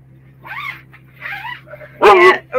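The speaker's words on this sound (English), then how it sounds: "And there's Moosey barking" A dog gives a few short barks and yips, three separate bursts with the last one loudest and closest, over a low steady hum.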